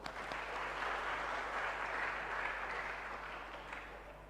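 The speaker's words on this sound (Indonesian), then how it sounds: "Tepuk tangan untuk kita semua." Steady applause from an audience at a university student orientation oration, a dense, even wash of clapping filling the whole stretch at moderate volume with no voices over it.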